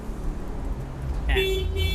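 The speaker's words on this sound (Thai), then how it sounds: "เสียงแตรจะดังนะครับ ไฟจะกระพริบนะครับ" A car alarm horn on a Honda City Turbo SV blares partway through, loud and close, over the rumble of a vehicle and background noise.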